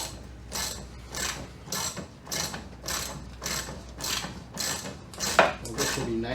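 A hand ratchet clicks in steady repeated bursts while bolting false deck pieces into a fishing boat. The rhythmic cranking sounds close and clear, with a sharper knock near the end.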